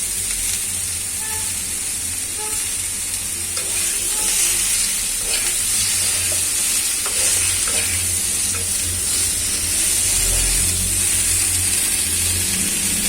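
Spices and vegetables for Bengali shukto fry in hot oil with a steady, loud sizzle while a spoon stirs and scrapes the pan at close range throughout.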